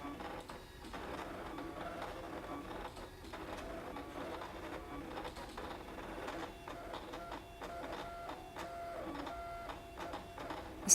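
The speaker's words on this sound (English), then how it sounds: "The Scan and Cut machine does a really good job." A ScanNCut cutting machine slicing through foil sheet, giving a steady mechanical whirr and buzz with faint carriage clicks and tonal motor whine, continuous and close throughout.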